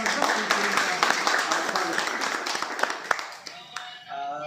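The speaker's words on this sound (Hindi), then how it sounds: "एक बार जोरदार तालियों के साथ" Applause at a press club seminar on National Press Day: a room full of people clapping loudly and steadily, the clapping fading out near the end, with some voices mixed in.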